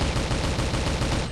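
Rapid automatic gunfire rattles in a fast, even burst of close, loud reports, part of a narrated account of a Malaysian commando firing on communists; no speech over it.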